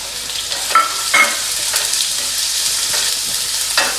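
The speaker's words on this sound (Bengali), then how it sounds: "মিডিয়াম টু হাই ফ্লেমে এটাকে কষাবো। একটু ভাজা ভাজা হোক।" Onion and cumin fry over a medium-high flame in a loud, continuous sizzle, with several scraping stirs of a spatula across the pan.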